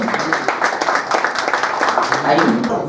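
Applause from a mushaira audience, dense continuous clapping with voices speaking over it throughout.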